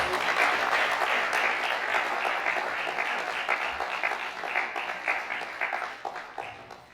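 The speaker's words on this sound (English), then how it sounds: "Please, another round of applause." An audience at a farmers' gathering in Oyo State applauds with dense, sustained clapping that starts loud and gradually thins and fades over about seven seconds.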